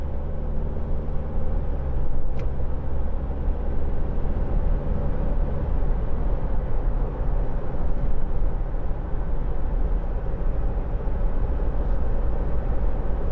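A 2015 Isuzu D-Max 2.5 TD Blade double cab 4x4 pickup drives through a chicane, with a constant loud interior drone of engine and road noise and a brief rattle partway through.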